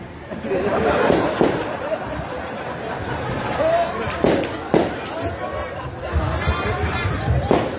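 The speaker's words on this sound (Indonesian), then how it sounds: "Datang dikasih petasan." Firecrackers pop and bang in scattered bursts amid a chattering crowd, with several sharp reports standing out over the noise.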